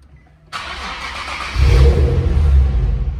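A Nissan GT-R or 370Z engine starts up and then revs hard, a sudden loud mechanical roar followed by a deep, rumbling rise in revs, close by and with no talking.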